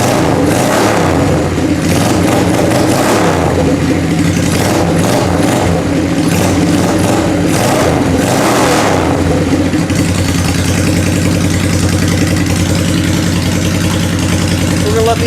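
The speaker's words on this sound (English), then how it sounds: "If I pump the throttle" A Honda engine idles loudly and close, then rises and falls in surges as the throttle is pumped before settling back to a steady idle, with a voice talking over it.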